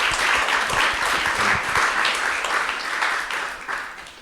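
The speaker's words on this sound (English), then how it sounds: "I think you can meet each speaker with applause." An auditorium audience at a gallery art talk claps warmly, the applause loud and sustained before it tapers off slightly at the end, with no talk over it.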